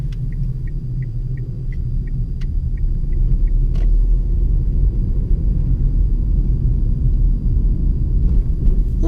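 A car drives slowly around tight junctions in a residential area, its low engine rumble and road noise steady and close, with a faint series of light ticking beeps early on like an indicator.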